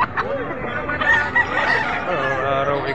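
A rooster crows loudly and close by, a drawn-out call rising and falling over other chicken sounds in the background, at a chicken market in Padre Garcia, Batangas.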